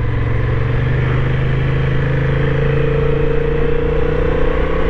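Honda Hornet 750 motorcycle engine under steady acceleration, a loud, continuous close-up drone with a rising tonal whine and no voices.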